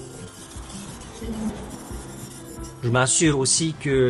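Knife blade stroked across a Naniwa 800 whetstone, a close, continuous scraping rasp that goes on under someone speaking for the last second or so.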